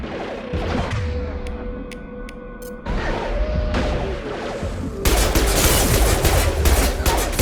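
Gunfire in the video game Mass Effect Legendary Edition: dense, continuous bursts of weapon fire with crashing impacts, growing louder and more intense in stages across the clip.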